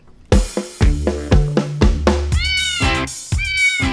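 A voice imitates a cat, giving a quick series of repeated meows, close and loud, one after another with short gaps.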